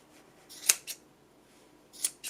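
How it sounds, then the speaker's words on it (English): Scissors snip through yarn loops on a pom-pom for a Halloween headband: two crisp, close cuts about a second and a half apart, each a quick double snip, against a quiet room. "You're going to grab your scissors and just cut all those loops."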